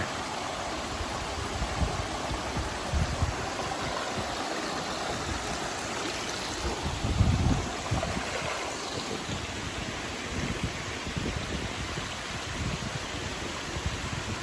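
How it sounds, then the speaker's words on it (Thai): Cold, fast-flowing stream water at Khlong Nam Lai waterfall in Kamphaeng Phet rushes steadily and loudly nearby, a continuous broadband roar with slight surges and no voices. "เสียงน้ำเย็นสดชื่นนะครับ"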